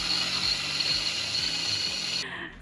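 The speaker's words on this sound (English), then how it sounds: "Gary is drilling into the mast that he's hanging from on a rope" Drill boring into an aluminum sailboat mast from someone hanging on a rope, a steady high-pitched whirring grind that cuts off abruptly near the end, moderately close.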